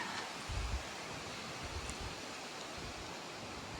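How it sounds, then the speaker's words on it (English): Steady broadband wind noise on a Friday afternoon in Georgia rushes across the whole stretch, with a couple of low buffeting gusts against the microphone and no voices. "It's pretty windy."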